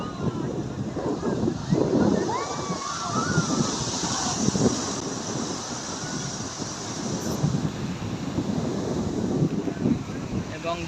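Sea waves breaking and washing onto the beach at Digha, a continuous rushing surf roar with rolling swells under wind buffeting the microphone, and a faint whistle-like tone partway through.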